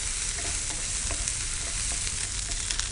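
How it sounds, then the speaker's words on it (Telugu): Ginger garlic paste frying in a pan for a brinjal and coconut fry, giving a steady, dense sizzle and crackle throughout with faint stirring scrapes, close and fairly loud, no talking. "సో అల్లం వెల్లుల్లి పేస్ట్ యాడ్ చేసుకున్నాము."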